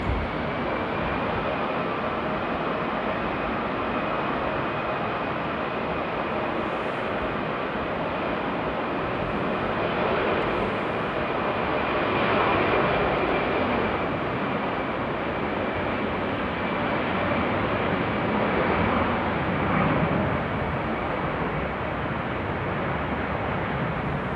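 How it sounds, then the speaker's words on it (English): An Airbus A320 airliner roars steadily during takeoff from Amsterdam Airport on a wet runway, a broad sustained rumble with a faint high whine, heard from a distance with no talking. "Yes, I think it is an A320. Taking off to Lisbon is flight TP671."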